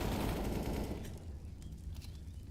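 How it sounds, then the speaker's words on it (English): Rapid FAMAS rifle spam in a Counter-Strike pro match, a dense burst of automatic gunfire that is loudest at the start and then thins into scattered shots over a steady game background. "they've actually gone for the Famas spam here"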